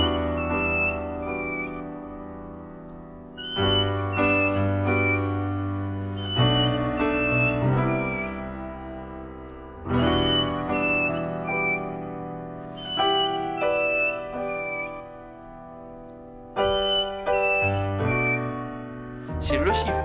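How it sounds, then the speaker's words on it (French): Clear, tonal whistles of a rufous-throated solitaire ring out in repeated phrases, bright and melodic, on a mountainside in Martinique, with a low rumbling background throughout. "C'est le siffleur des montagnes."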